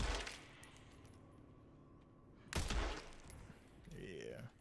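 Suppressed gunfire in the video game Resident Evil Requiem: a muffled, thumping shot partway through over a low game ambience, followed by a softer rattling tail and a faint whirring effect.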